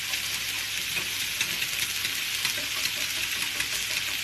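A frittata mixture of peppers and ricotta is stirred in a hot pan. The sizzle is steady, broadband and fairly close, with faint scraping from the stirring and no talk over it.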